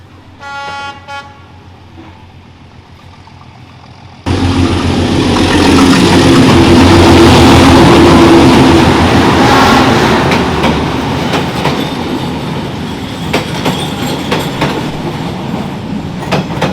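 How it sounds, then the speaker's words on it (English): A train horn blares, then a loud roar as a train rushes past very close along a narrow street in Hanoi, with rumbling and rattling wheels that continue for a long stretch. "There's another train coming."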